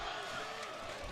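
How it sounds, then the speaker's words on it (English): A visiting crowd at a high school football game roars steadily in a broad, continuous wash of cheering and yelling, heard from a distance. "As the Bellarmine visiting crowd is going crazy"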